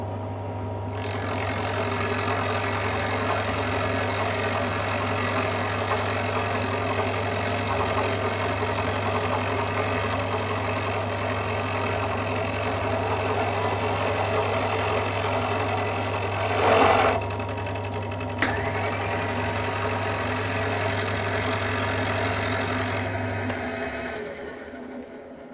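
Metal lathe taking a final cut on a connecting rod for a 2-inch scale Fowler showman's engine, a steady loud motor hum with a strong low drone running continuously, a brief clunk midway, then spinning down near the end.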